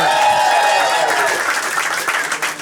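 Audience applause and crowd noise at a live comedy roast battle, loud and close, with voices and cheers mixed into the clapping that thins slightly toward the end.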